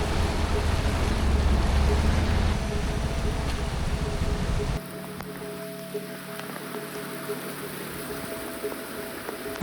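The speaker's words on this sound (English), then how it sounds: "I've never seen rain like it in my life." Heavy rain pours down during a flood at dog kennels, a loud dense hiss and patter that drops to a quieter, steadier wash of rain and running water halfway through, close to the microphone, with no speech.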